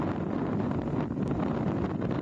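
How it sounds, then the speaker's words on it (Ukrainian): Strong wind in a Carpathian highland snowstorm during an unexpected spring blizzard, heard as a steady, loud, broadband roar buffeting the microphone throughout, with no voices. "Сильний вітер збиває з ніг."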